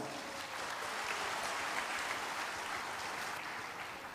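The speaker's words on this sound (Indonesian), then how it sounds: "Tepuk tangan dong buat kita semua" Broad, steady applause from an audience at a Buddhist dhamma talk, a continuous wash of many hands clapping at even loudness throughout, with no voices standing out.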